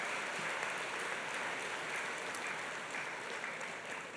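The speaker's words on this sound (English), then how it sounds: "Just a round of applause." A crowd at a business awards gala applauds in a dense, even wash of clapping that holds steady throughout.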